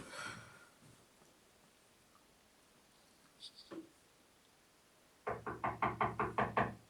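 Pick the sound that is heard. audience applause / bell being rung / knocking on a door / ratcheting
knocking on a door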